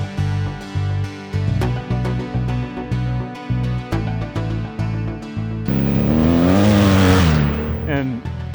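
Heavy rhythmic thumping and music-like tones give way to a BMW F800GS motorcycle with a paddle tire roaring as it accelerates hard on the throttle, a loud rising engine burst near the end.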